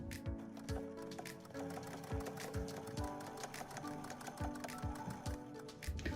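Close, steady sewing machine stitching with rhythmic mechanical thumps and a clattering whir running continuously, fairly quiet overall.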